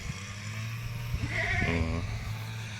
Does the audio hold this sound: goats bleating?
yes